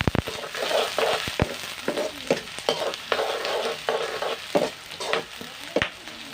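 Onion and green chili fry in a hot pan, a steady close sizzle broken by repeated scraping and clinking stir strokes against the metal.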